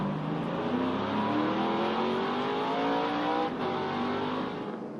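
NASCAR Craftsman Truck Series trucks race under the lights at Martinsville, a continuous loud engine roar with rising and falling revs as several trucks pass close by, with no talk.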